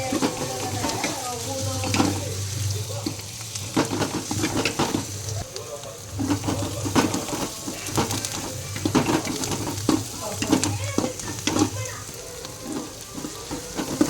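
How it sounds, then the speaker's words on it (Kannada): Onions fry in a pan for tomato gojju, a steady crackling sizzle under repeated scraping strokes of a spatula and low rumbling pan noise, close up, with bits of background voice. "ಚೆನ್ನಾಗಿ ಫ್ರೈ ಮಾಡ್ಕೋಬೇಕು."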